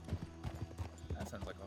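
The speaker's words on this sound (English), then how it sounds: "That sounds like a horse." Horse hooves clip-clop in a western roleplay video game, a quick, even run of muffled thuds at moderate distance under faint background voices.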